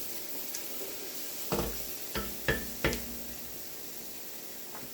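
Vegetables for a chicken pot pie sautéing in a pan, a faint steady sizzle broken by a few sharp clacks of stirring or utensil knocks near the middle.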